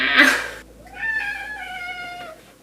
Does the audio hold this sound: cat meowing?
yes